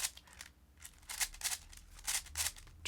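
A small 7x7 speed cube being turned gives quick, crisp clicking bursts in an irregular rhythm, close and fairly quiet.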